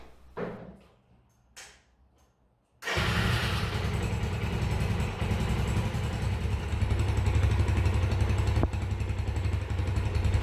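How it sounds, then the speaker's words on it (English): A few faint clicks and knocks, then a 250cc motorcycle engine starts and keeps running at a steady, loud idle to warm up before an oil change, until the end. "Run the bike up to temperature."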